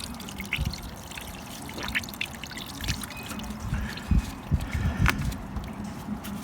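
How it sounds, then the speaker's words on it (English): Coolant water pouring and trickling out of a disconnected radiator hose on a 2-litre Ford Mondeo, a close, continuous splashing flow with irregular spatters and dribbles, no talking. "now the water's starting to pour out of here"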